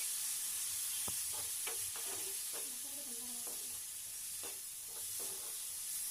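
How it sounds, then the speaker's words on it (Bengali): Potatoes frying with spices and a little water in a pan for a Bengali egg and potato curry, a faint steady sizzle with scattered light clicks and scrapes of stirring, fairly distant and low in level. "মশলার সাথে আলুটা খুব ভালো করে ভেজে নেওয়ার পরে আমি আবার একটু জল দিয়ে এটা কষিয়ে নিচ্ছি"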